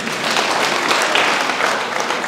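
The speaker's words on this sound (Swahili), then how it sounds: "Situpigie kabisa makofi." Steady applause from a church congregation in Kisii, Kenya, dense and continuous clapping throughout with no pauses.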